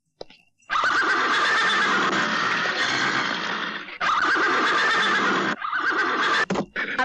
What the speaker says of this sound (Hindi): आपके घोड़े को क्या हो गया आज?